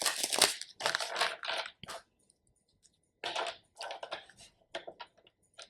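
Tarot cards are shuffled in quick riffling bursts, a pause, then another run of crisp flicking and crinkling, close and alone.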